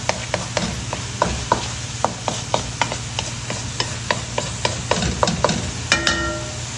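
A spoon stirs two extra-large beaten eggs into sautéed bitter gourd (ampalaya) in a pan, giving regular scraping clicks about twice a second over a low sizzle, with a brief metallic clatter near the end.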